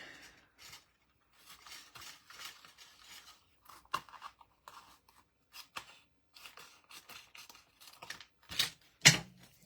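Scissors snip through card in a series of short, close crunching cuts with pauses between, ending in a couple of louder, sharper snips, with no talking.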